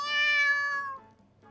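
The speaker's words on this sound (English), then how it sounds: "I hear a little meow from below me." A cartoonish cat meow in a visual novel game, a single clear tonal call with rising harmonics that holds for about a second and then fades, alone without talk.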